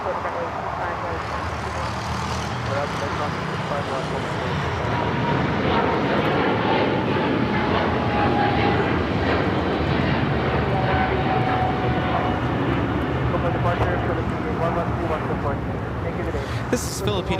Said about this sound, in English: This is Philippine Airlines Flight 102 taking off to Manila on the 777-300ER